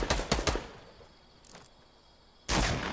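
A sniper rifle in the Fortnite video game fires a quick cluster of sharp shots, then a single loud blast follows after a short lull with a faint background hum.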